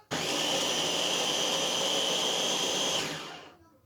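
A blender pulses bread into homemade panko crumbs in one loud, steady whirring burst of about three seconds that stops abruptly and then winds down.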